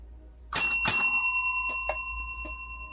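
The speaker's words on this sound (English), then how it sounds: "the bell rang before the kangaroo could react" Boxing match bell struck twice in quick succession, a loud ringing metallic tone that lingers and fades, followed by a few fainter taps as the ring decays.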